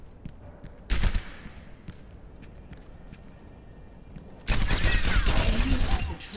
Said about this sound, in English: Then fire your rifle.